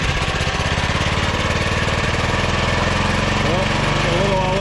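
Late-1990s Honda Harmony lawn mower engine idling unevenly, a steady loud close-up putter whose pitch drifts and surges midway, with a faint voice underneath.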